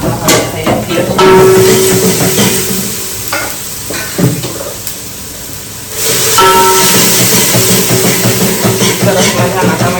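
A dal tempering (vaghar) sizzles loudly in the pan, broken by clanks and scraping from stirring. A voice talks over it at times.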